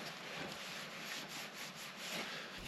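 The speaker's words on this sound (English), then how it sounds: "I'm just going to wipe the dust off the reservoir before I open it" Soft rhythmic rubbing as a cloth wipes dust off the rear brake fluid reservoir of a Triumph Rocket motorcycle, a close, steady scrubbing with gentle repeated strokes.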